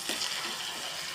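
Prawns hit a pan of frying coriander, chilli and salt spices, giving a steady, close hiss of sizzling that holds evenly throughout with faint stirring ticks.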